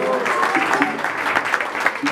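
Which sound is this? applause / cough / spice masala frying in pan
applause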